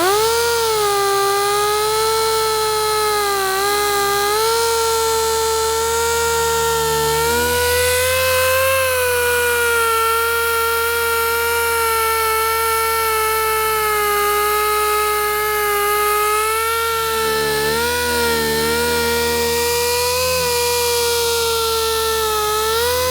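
A pneumatic polisher whirs steadily while buffing a Subaru WRX's paint, its high motor whine wavering slightly in pitch as pressure shifts, loud and close with no voices.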